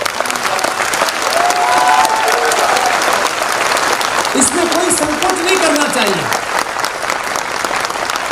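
An audience at a speech breaks into sustained applause, a dense steady roar of many hands clapping that carries on throughout while a voice speaks over it.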